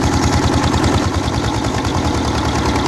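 A heavy tractor engine runs steadily while churning hard earth for roof tiles and bricks, with a rapid, rhythmic low chugging that fills the whole clip, loud and close, with no voices.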